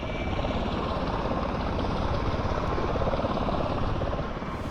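An MV-22 Osprey tiltrotor in Microsoft Flight Simulator cruises at altitude, giving a loud, steady, throbbing rotor and engine drone that holds constant throughout.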